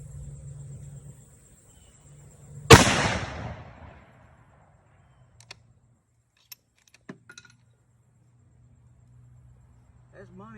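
A Savage Axis II XP rifle fires one sharp, loud shot outdoors. The blast fades quickly into near silence, followed by a few faint clicks and handling noises.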